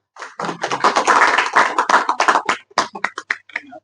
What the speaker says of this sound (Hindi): एक बार जोरदार तालियों से डॉक्टर साहब का स्वागत करें।